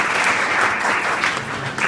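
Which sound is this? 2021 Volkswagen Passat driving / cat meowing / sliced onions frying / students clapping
students clapping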